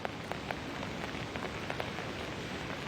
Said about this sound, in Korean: 비가 정말 많이 내리고 있네요.